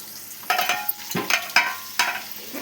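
Tamarind juice poured into hot, heated oil, giving a few sharp bursts of sizzling and spattering with stirring scrapes between them, close and moderately loud, no voices.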